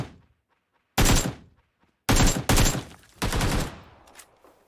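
Gunfire in the video game PUBG: four sharp, loud bursts of shots, some quick double cracks, separated by near silence, with a fading echo after the last.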